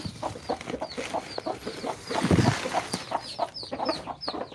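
Chickens cluck in a repeated, uneven patter, moderately close and fairly quiet, with a brief louder burst in the middle and no talking over them.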